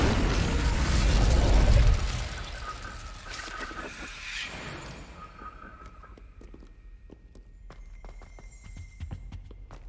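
Incendio fire spell bursting in Hogwarts Legacy, a loud roaring whoosh for the first two seconds that fades into scattered clicks, pops and faint crackles.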